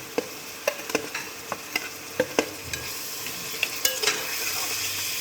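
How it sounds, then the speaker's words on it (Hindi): Ginger garlic paste frying with mutton and onion in a pan, a steady sizzle broken by sharp metallic scrapes and taps of a spoon stirring at irregular intervals, close and with no talking. "लहसुन को, अदरक को इसमें भून लेंगे 1 मिनट"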